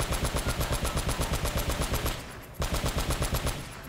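Rapid automatic gunfire from the video game Uncharted: Drake's Fortune, a loud, close, steady burst of evenly spaced shots that briefly pauses, then resumes.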